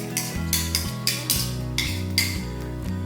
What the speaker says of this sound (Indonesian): Bahan-bahan yang sudah blender diaduk jadi satu, bawang putihnya dicampur dengan jahe